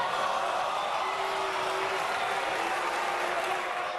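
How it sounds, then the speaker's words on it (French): A dense parliamentary crowd booing Élisabeth Borne fills the chamber with a loud, unbroken wall of jeering voices that holds steady from start to finish. "Elisabeth Borne, huée à gauche"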